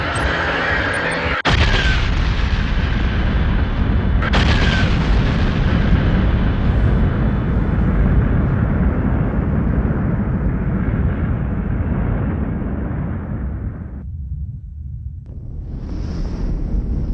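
Dramatic supernova explosion effect: a deep, roaring rumble with a sharp blast near the start, then a long sustained wash of noise that drops away abruptly before a brief hiss returns.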